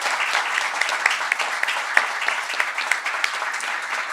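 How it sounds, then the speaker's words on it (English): A conference audience gives steady applause after a panel discussion on circular makerspaces, a dense wash of clapping that is moderately loud and carries on evenly throughout. "Well, guys, thank you all very much. A round of applause,"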